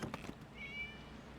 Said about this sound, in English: what's that sound? Kitty cat.